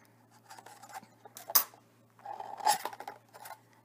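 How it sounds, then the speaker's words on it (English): Scissors snip through colorful duct tape during a windsock craft, with two sharp cuts at close range, one short and one longer, amid quieter rustling of tape. "I'm just going to take the rest of the section here, and we'll cut off what we don't need."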